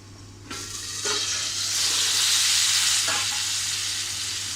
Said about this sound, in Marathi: मंद आचेवर आपल्याला मटार शिजेपर्यंत ठेवायचे